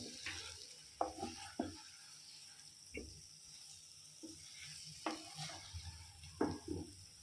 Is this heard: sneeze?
no